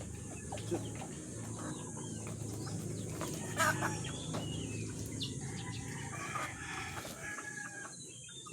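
Chickens in a coop on a Philippine farm cluck and squawk near and fairly faintly over steady background noise, with a rooster-like call standing out briefly around the middle.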